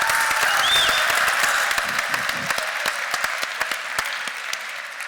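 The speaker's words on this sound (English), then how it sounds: "can we also give all of you a round of applause" Sustained applause from a crowd, dense steady clapping at a moderate distance with a few sharper individual claps standing out.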